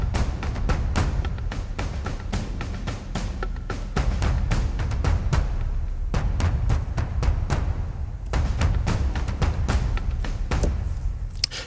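Ujam Drums and Striiiings plays low and high drum parts blended together in a steady, driving rhythm of loud, dense hits, continuous with no talking.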